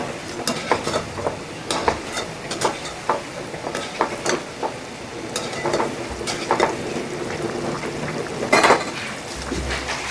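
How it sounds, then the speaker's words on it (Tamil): Sugar syrup for rava gulab jamun bubbling and sizzling in a pan, with scattered clinks and scrapes of a utensil stirring. "போட்டு ஒரு 2 நிமிஷத்துக்கு கொதிக்க வச்சிடலாம்."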